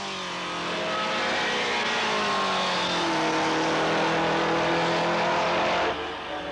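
A classic Alfa Romeo Giulietta SZ race car with a Zagato body and 1300cc engine races past with other period cars, giving a loud, sustained engine roar that shifts in pitch before dropping away near the end.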